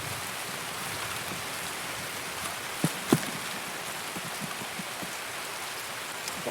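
Steady rain hisses across the whole mix in the video game Escape from Tarkov, a broad even wash with a couple of sharp clicks and thuds standing out briefly midway, no voices.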